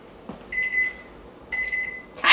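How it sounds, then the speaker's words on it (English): A kitchen timer in a home kitchen beeps in two rapid trains of high electronic tones, separated by a pause, followed by a short burst of noise. "Timer."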